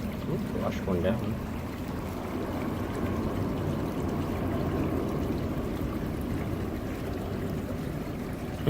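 Water rushes steadily through a fluid bed sluice used for gold prospecting, a continuous gushing flow that fills the whole clip at close range while people talk briefly over it.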